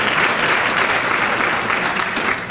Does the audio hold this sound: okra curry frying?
no